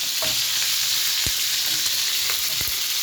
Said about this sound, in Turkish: Önce soğanımızı kavuruyoruz.